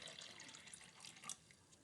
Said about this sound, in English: I'm going to pour a liter of water into that cup.